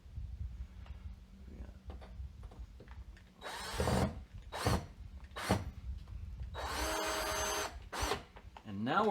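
A power drill drives a screw into a door hinge, giving several short, loud whirring bursts with pauses between them over steady low background noise.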